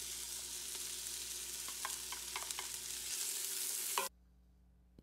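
Onion sizzles in a pan of garlic and olive oil for split pea soup, a steady frying hiss broken by light stirring clicks, then it cuts off abruptly into near silence.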